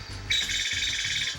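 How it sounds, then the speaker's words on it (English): Recorded Nuttall's woodpecker call played from a BirdJam device: a steady high rattling trill lasting about a second, clear and close over faint low background rumble. "Just so that we know what the call of Nuttall's woodpecker sounds like, I'm using my bird jam equipment, scrolling down to Nuttall's woodpecker"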